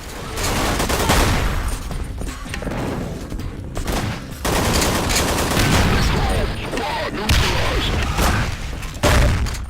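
Dense firefight from the Wilson Chronicles mod for Half-Life: rapid overlapping gunfire and booming explosions fill the whole stretch, loud and continuous with brief lulls near the middle.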